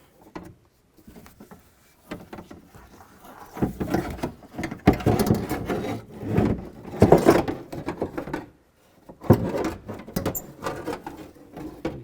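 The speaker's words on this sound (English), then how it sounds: "You can grab the motor and the regulator, just slide it down." A Nissan Xterra window regulator and motor slide out of the door cavity with intermittent close metallic scraping, clunks and rattling bursts between quiet gaps, no talking.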